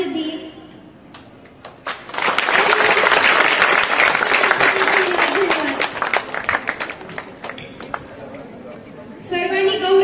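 An audience at a school Teacher's Day program bursts into loud, steady applause for the students, building quickly and holding for several seconds before thinning out, with a voice speaking over the start and end.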